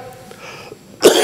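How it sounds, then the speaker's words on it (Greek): A single cough bursts out abruptly near the end, close and fairly loud, from someone speaking in the Greek parliament who mentions a long-lasting cough, after a stretch of low background. "έχω και ένα βήχα που με ταλαιπωρεί εδώ και αρκετό χρονικό διάστημα"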